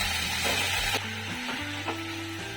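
Oil sizzles and crackles steadily in a pan while mint is fried for chutney, with a few stirring scrapes and short tonal clinks, close and alone.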